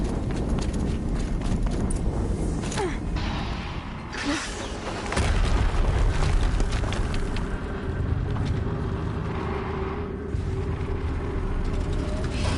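Explosions in the video game Horizon Zero Dawn: muffled, drum-like booms and thumping bursts rolling over a dense, continuous bed of game noise, with a louder surge about midway.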